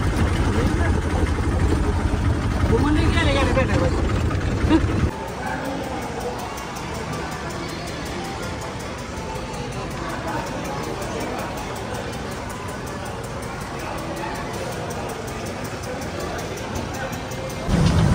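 A state transport bus engine at a bus stand in Kalamb, idling in a low, steady rumble that is loud at first, drops back after a few seconds, then swells again at the end, with voices chattering over it throughout.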